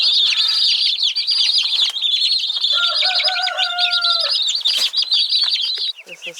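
Barred Rock chicks and chickens on a small farm peep in a dense, continuous chorus of high chirps, with a few lower calls and brief wing flaps, close and loud.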